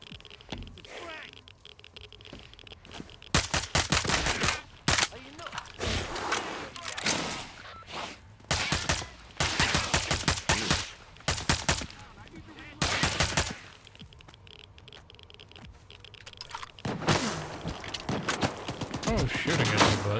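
Video game gunfire from enemies shooting at the player, loud rapid bursts of automatic fire in repeated volleys, some stretches dense and close, with gaps between, under occasional talk.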